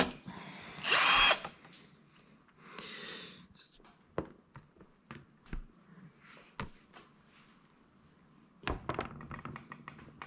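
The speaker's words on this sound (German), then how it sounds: "In jede Platte wurden 5 Löcher gebohrt" A power drill bores holes into PVC plates, with a loud burst of whining drilling followed by scattered knocks and thunks of handling the parts.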